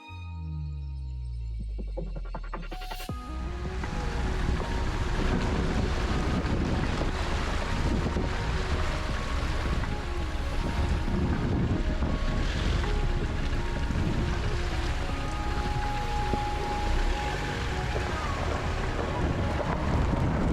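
Pacific Ocean surf rolls onto the shore in a continuous, loud wash, with heavy wind buffeting the microphone throughout.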